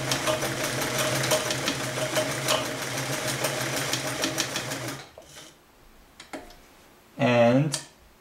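A serviced vintage Sears Kenmore heavy-duty sewing machine runs a blind hem stitch with a rapid, even mechanical clatter for about five seconds, then stops, leaving faint clicks and a brief burst of a man's speech.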